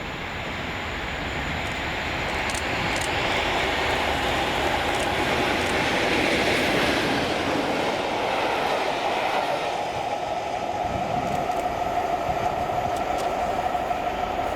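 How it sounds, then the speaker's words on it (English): A West Coast Railway train hauled by Class 37 diesel locomotive 37668 rumbling past, a steady loud roll of wheels and engine with rhythmic clicks on the rails, swelling and then fading slightly. "the 1543 West Coast Railway service to Larbert Nord DGL from Carnforth Steamtown with 37668"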